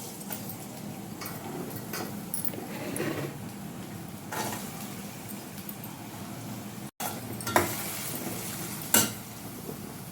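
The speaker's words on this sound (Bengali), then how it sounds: "তেল হালকা গরম হলে পরে আমি প্রথমে দিয়ে নেব হচ্ছে গাজর।" Carrots stir-fry in warm oil for festive fried rice, a faint sizzle under occasional clinks and scrapes of a spatula on the pan, with a brief cutout midway.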